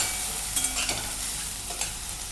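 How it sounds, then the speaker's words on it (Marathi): Kolhapuri chutney spice is sautéed in a pan with a steady, even sizzle and a few light stirring scrapes. It stays fairly quiet throughout with no voices. "आता हे मी परतवून घेते तिखट।"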